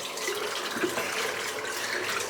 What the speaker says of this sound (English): Just rinse this brush out.